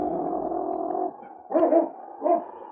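A dog in an old radio drama set in the Yukon makes a low sustained growl, then two short gruff bursts like muffled barks or snarls, close and clear with no talking over it.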